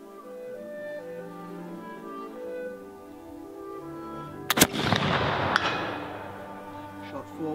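A single loud rifle shot from a Baker infantry rifle fired at a 180-yard target cracks out and rolls away, heard alone over a humming background.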